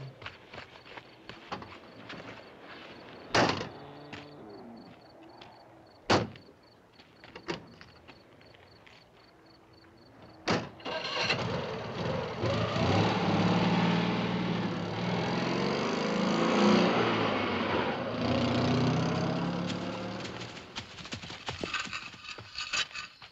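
A car door slams a few times, sharp and close, before an engine turns over and settles into a rough, rumbling idle that carries through the rest of the scene.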